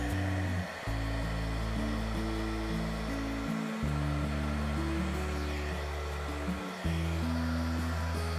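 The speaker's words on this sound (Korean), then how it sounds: "드라이기는 제 타입이 아니다" A hair dryer blows on fluid resin art with a steady, loud whir that shifts pitch in stepped changes as the speed setting or angle changes, with no talking.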